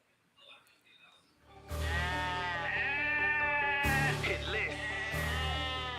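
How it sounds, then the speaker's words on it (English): Goats bleat within a music track, loud wavering bleats that enter after a quiet start and repeat in bursts over the beat. "Coming in with the goats."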